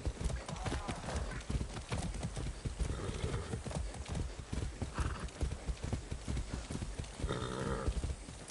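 Horse hooves clip-clop steadily in the video game Far Cry 6, a dense rhythmic patter of close footfalls with a whinny near the end, while a voice talks over it.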